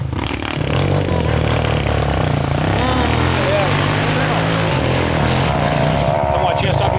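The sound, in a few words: small motorbike climbing a dirt trail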